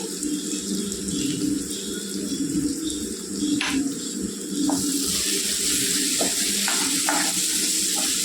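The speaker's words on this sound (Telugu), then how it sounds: "కారం కొద్దిగా ఏగనివ్వాలండి కారం పచ్చివాసన పోయేదాకా ఒక్క నిమిషం వేస్తే సరిపోద్దండి" Chili powder sizzling in hot oil in a pan while cooking egg curry, a steady bright fizz running throughout with a few light clinks and stirring scrapes.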